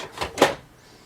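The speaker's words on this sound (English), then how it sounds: "Close the lid" The lid of a Brother MFC-J491DW scanner is closed, giving a quick pair of soft plastic clacks, the second one sharper and louder, followed by quiet room hiss.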